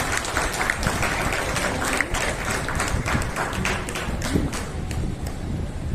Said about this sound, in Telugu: కాబట్టి వారికి మనం మనస్ఫూర్తిగా అందరం కూడా ఒకసారి చప్పట్లతోటి అభినందనలు తెలియజేయాలి